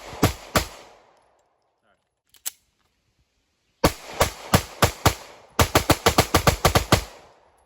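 A Glock pistol fitted with a G-Flex trigger fires sharp, loud shots: two single shots, a pause with a faint click, then a fast string of about seven rounds and a quicker burst of about nine more.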